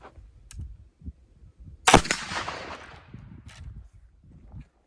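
A black powder rifle fires a single loud, sharp shot loaded with 3F Swiss powder, followed by a short decaying echo, with faint handling noises before and after.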